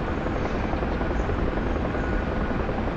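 A helicopter hovering in the DCS flight simulator at the Hoover Dam, a dense, steady rotor and engine drone at constant loudness throughout.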